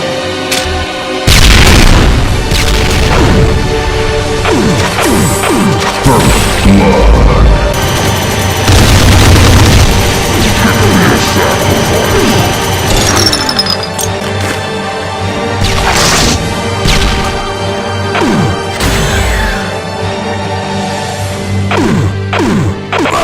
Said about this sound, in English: cluster spreads of homing and wall-bouncing legendary plasmatic cannon shots